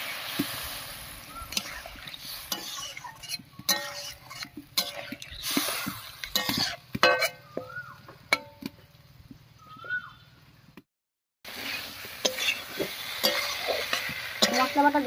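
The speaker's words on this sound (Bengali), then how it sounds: "এবারে মশলা বাটা জল দিয়ে খুব ভালো করে কষিয়ে নেব।" Spice paste with water is stirred and fried in a pan for village-style fish curry: repeated scraping stirs over a soft sizzle, fairly close, with a brief silent gap near the end.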